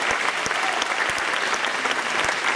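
Audience applause at an outdoor summer camp rock concert, a steady dense wash of many hands clapping at moderate distance, continuous throughout with no voices over it.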